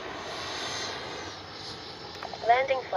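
Freewing MiG-29 Fulcrum twin 80mm electric ducted-fan RC jet flies overhead, a steady moderate whine of fans at some distance, with a voice speaking briefly near the end.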